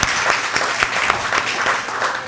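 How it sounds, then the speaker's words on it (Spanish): A church congregation claps briskly in praise during a Spanish-language service. The dense, steady applause carries a few louder claps that stand out, with no talking over it. "Aplaudan al Señor."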